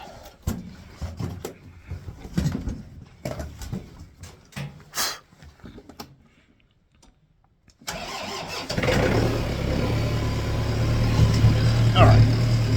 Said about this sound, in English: Let me start the tractor here for a minute.